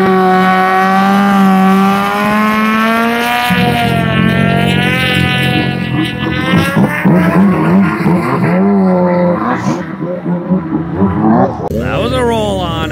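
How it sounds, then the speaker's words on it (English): A Yamaha Apex snowmobile sled with over 500 horsepower makes a loud, close run, its engine holding a steady high rev before climbing and shifting pitch as it accelerates hard. Excited voices talk over it. "That Apex is 500 plus horsepower."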